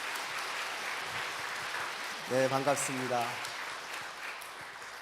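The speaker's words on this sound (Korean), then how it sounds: "한번 일어서시면 환영의 박수 드리겠습니다" A church congregation claps in welcome, a steady wash of applause that continues throughout while someone briefly speaks a greeting over it.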